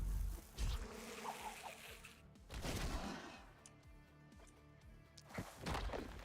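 Insect-like buzzing from a swarm of bees in the video game The Last Spell drones under dense layered game music and impacts, fairly faint and continuous.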